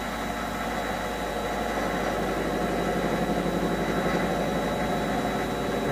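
A lathe turns a rubber prosthetic foot at around 450 to 500 rpm, giving a steady, loud mechanical hum and whirr with a constant tone that runs throughout without pause.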